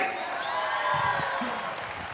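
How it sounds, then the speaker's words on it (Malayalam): An audience at a Malayalam film awards ceremony bursts into steady, dense clapping that continues evenly for a couple of seconds. "നല്ലൊരു കൈയടി."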